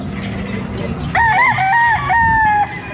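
A gamefowl rooster of the LDT Gray Banahaw line, straight-combed with white legs, crows once in a loud, close, drawn-out call lasting about a second and a half over a low background hum.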